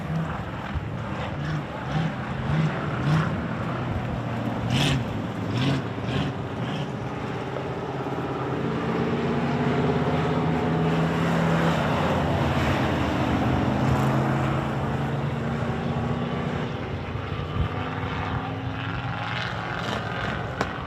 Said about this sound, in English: getting that car fired up again